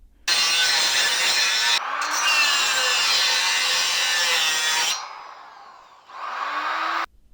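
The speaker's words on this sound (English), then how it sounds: "And here I'm cutting the piece of metal I measured." A power tool cuts through a piece of metal bracket for a core support repair on a GMC Safari or Chevrolet Astro van, a loud steady grinding whine that runs continuously, briefly drops, then resumes before stopping.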